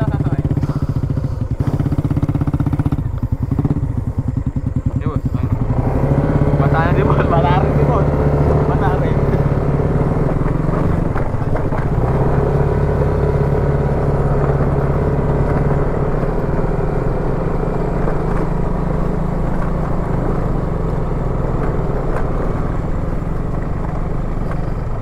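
Motorcycle engine running steadily while riding home, a loud constant drone with wind buffeting, as people shout and talk over it.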